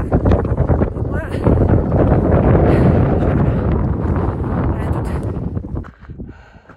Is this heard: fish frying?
no